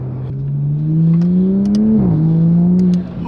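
A manual Toyota Supra sports car engine revs up, its pitch climbing steadily, dips briefly on a gear change, then climbs again before cutting off abruptly. Loud and close.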